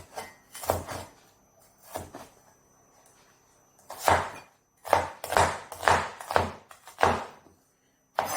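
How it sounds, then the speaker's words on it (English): A knife chops garden egg leaves and onion on a cutting board, a close series of crisp thuds coming in uneven bursts with short pauses between them. "So I'll just cut it."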